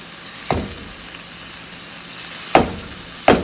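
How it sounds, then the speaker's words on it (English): Corned beef frying in a pan while being broken up into smaller pieces, a steady close sizzle punctuated by three sharp scraping knocks of the utensil against the pan. "I'm adding my corned beef, and I'm going to just start to break it down into smaller pieces."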